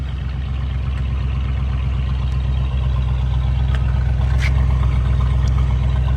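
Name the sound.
1978 Lincoln Continental Town Car engine idling, dual exhaust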